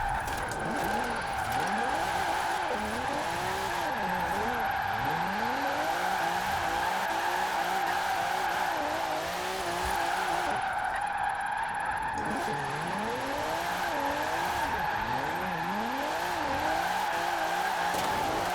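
A retro Alfa Romeo in Forza Horizon 4 roars under throttle with a continuous engine drone while repeated tire squeals and skids rise and fall through slides.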